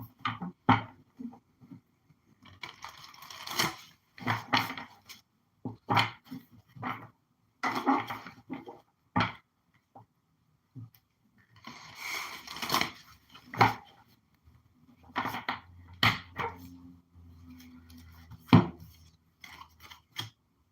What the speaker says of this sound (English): Let's shuffle this up and find out what we're dealing with here.